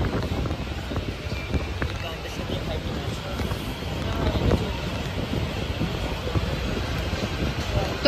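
Wind rushes through a moving train in the rain, making a constant low, blustery roar with buffeting against the microphone. It rises slightly midway and stays loud and continuous, with no clear words.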